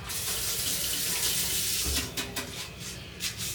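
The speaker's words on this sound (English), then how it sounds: "And let me rinse this off." A kitchen tap runs steadily while herbs are rinsed under it. Close, continuous water rushes and splashes, then the flow breaks into uneven spatters near the end.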